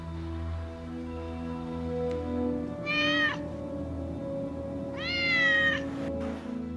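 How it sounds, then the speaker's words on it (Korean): Two street cats fighting over territory in a city trade drawn-out, rising yowls, one long cry then another, over a low steady background hum. "먹이가 부족한 도심에서 길고양이들의 영역 다툼은 절박한 생존의 문제입니다."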